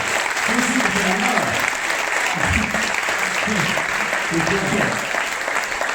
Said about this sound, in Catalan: Per cert, un aplaudiment als acomodadors!